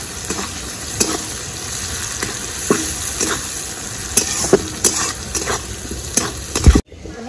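Chopped onion frying in hot oil while being stirred, a steady close sizzle with repeated scraping strokes of the spoon through the pan, ending abruptly.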